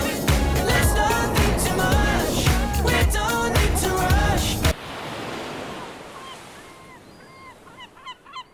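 Ocean waves wash onto a summer beach, a steady broadband surf roar carrying through, louder and denser in the first half, then softer with bird calls rising over the quieter wash.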